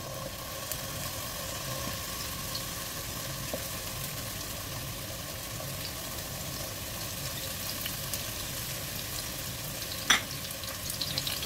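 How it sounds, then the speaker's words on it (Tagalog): Potatoes frying in a hot pan, a quiet, steady sizzle throughout with one brief clink near the end. "Mainit na yung ating kawali at pwede na natin ilagay yung ating patatas."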